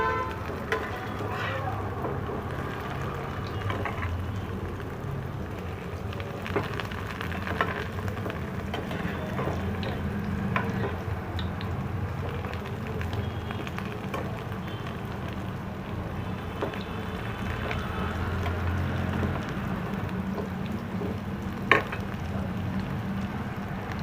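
Bread malpua pieces frying together in hot ghee, giving a steady, soft crackling sizzle that runs throughout with faint background noise and no clear voices.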